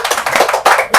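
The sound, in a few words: audience clapping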